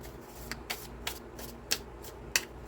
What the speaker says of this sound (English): let's go ahead and get 3 of these word cards here